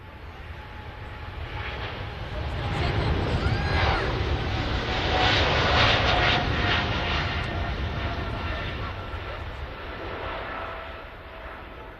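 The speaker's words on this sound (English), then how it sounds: "That's the Emirates 777 departing earlier." An Emirates Boeing 777 jet departing Manchester Airport gives off a steady, loud broadband roar that swells toward the middle and eases slightly near the end, heard alone without talk.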